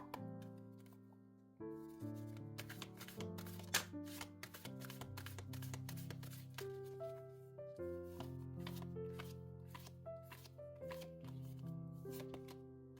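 Tarot cards shuffled by hand in quick riffling bursts, dense rapid flutters and taps repeating close up over soft background music, with no talking.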